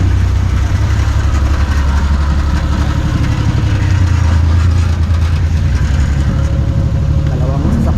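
Two vehicles delivering rice arrive outdoors, their engines rumbling low and steady close by, with faint voices and ambient noise over the continuous idle.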